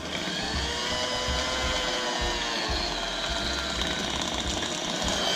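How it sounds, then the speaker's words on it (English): An electric mixer beats milk and softened butter into icing, giving a steady, continuous mechanical whir with a churning rattle. It runs unbroken at moderate loudness with no talk. "I'll beat the ingredients together."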